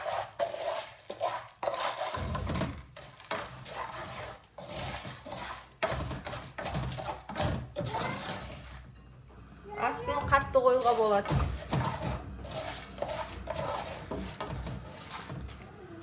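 Popcorn being stirred in a pot with a large spoon, scraping and rattling in irregular bursts, under a voice speaking throughout.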